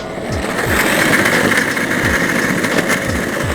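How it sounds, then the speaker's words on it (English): An electric skateboard rattles hard over brick paving, giving a loud, continuous buzzing clatter with rhythmic thumps as the wheels cross the joints, close and alone. "If you can hear some rattling, it's because of two things. Number one, I'm on some brick."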